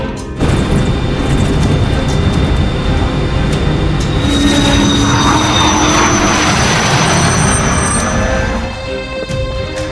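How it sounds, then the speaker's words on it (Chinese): A test aircraft taking off for a circuit flight roars loudly and continuously, its engine drone joined by a rising high whine midway, with no clear talk over it. "现在飞机离地，执行五边飞行"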